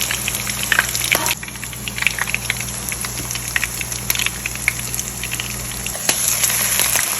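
Chicken chapli kebabs fry in hot oil with a loud, continuous sizzle and crackle close by, marked by a few sharper pops and a brief dip as more pieces go in.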